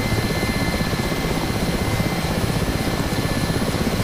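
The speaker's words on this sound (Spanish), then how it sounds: "soy un helicóptero, puedo dar marcha atrás" A Mi-8 helicopter in the DCS flight simulator drones with a loud, constant rotor thump and engine whine, filling the whole stretch without pause.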